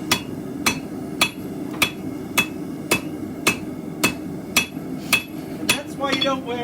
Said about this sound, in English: Flat hammer.